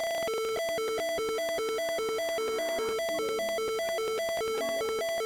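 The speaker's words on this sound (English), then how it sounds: "Let's lower the volume because the buzzer is a bit noisy. And first, the first siren." A piezo buzzer driven by an Arduino Uno sounds a harsh electronic siren, alternating rapidly between two pitches in a steady, continuous warble.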